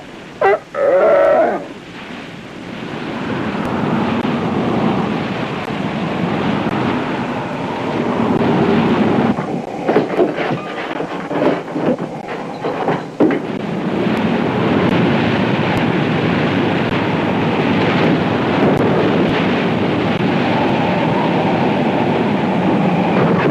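Typhoon wind sweeps toward an island in a film scene, a loud, continuous roar of wind and surf with gusty surges and brief rumbling breaks, no talking.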